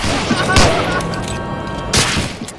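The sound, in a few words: grenade explosion in Medal of Honor Allied Assault video game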